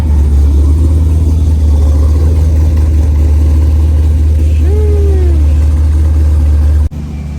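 A BMW M3 with an LS3 V8 swap runs at a loud, steady idle after a cold start, with a brief rise in revs midway. A short voice is heard, and the engine cuts off near the end.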